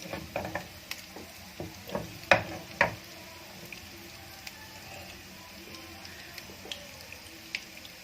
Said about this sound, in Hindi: पैन में हमने ऑयल डाल लिया है, हमारा ऑयल गर्म हो गया है। हम इसे आराम से फ्राई करने के लिए डालेंगे।